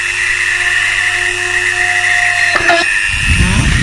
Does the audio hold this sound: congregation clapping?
no